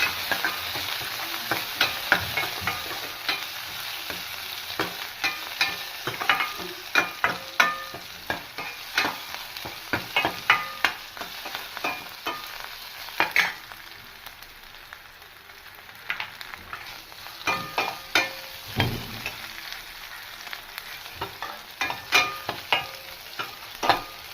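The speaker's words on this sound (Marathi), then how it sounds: "थोडीशी कोथिंबीर, थोडंसं टोमॅटो, याला थोडंसं हलवून घ्यायचं" Dal with coriander and tomato being stirred in a sizzling pan, with steady frying hiss and repeated sharp scraping strokes of a spoon throughout, close and fairly loud, no talking.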